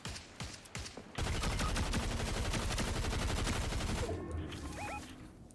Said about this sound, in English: He's firing rockets at us.